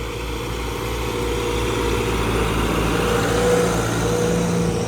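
A tractor pulling a plough and rotavator runs steadily in the field, its engine giving a loud, continuous drone with a low throbbing hum that never lets up.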